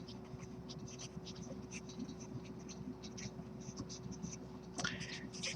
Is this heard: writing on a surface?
yes